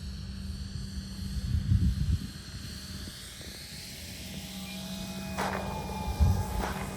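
An E-Flite Super Timber electric RC airplane, 1.7 m wingspan, comes in with full flaps for a touch and go, its motor a steady whine rising and falling in pitch with faint outdoor rumble and no talking.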